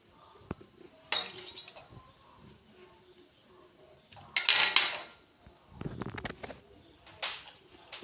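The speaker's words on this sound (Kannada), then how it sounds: "ಬಾಳೆಹಣ್ಣನ್ನು ಕಟ್ ಮಾಡಿ ನೋಡ್ತಾ ಇದ್ದೇನೆ ನಾನು" A knife cuts a red banana on a plate, giving scattered sharp clinks and taps of metal against dishware, fairly quiet and separated by pauses.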